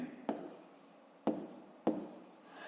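A pen writes a maths solution on paper: three short, quiet scratching strokes spaced about a second apart, alone in a hushed room.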